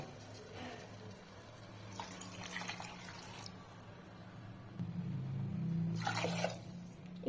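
Water pours and splashes into a cooking pot for tomato rice in a few short bursts, close by, over a low background hum.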